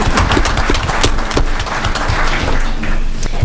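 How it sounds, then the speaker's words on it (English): A school board meeting audience claps for a student leader, a loud, dense round of applause from many hands that holds steady for a few seconds without speech. "Applause for Laura."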